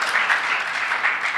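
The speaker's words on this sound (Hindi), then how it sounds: "क्यों ना प्रभु के लिए ताली बजाएं" A church congregation breaks into sustained applause during a sermon, a dense wash of many hands clapping steadily and fairly loudly throughout, with no speech over it.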